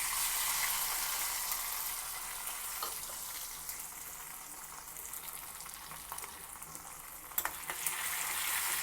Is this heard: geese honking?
no